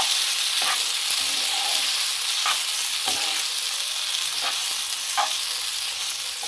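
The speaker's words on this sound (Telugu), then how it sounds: "బాయిల్ చేసి పెట్టుకున్న సేమియా యాడ్ చేస్తున్నాము" Boiled vermicelli being stirred in a hot pan for semiya pulihora gives a steady, close sizzle broken by occasional soft spatula scrapes and clicks, with no voices.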